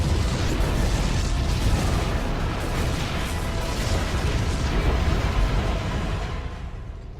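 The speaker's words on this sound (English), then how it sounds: "The explosions have stopped." Heavy rumbling explosions rock a ship aboard in StarCraft: Heart of the Swarm, a continuous dense booming roar with scattered bursts that slowly tapers off.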